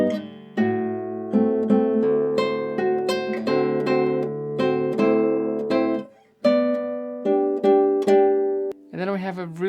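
Classical guitar plays a passage from João Pernambuco's Sons de Carrilhões, ringing chords and melody notes with bell-like sustain, played steadily up close, ending in a quick flourish of higher notes.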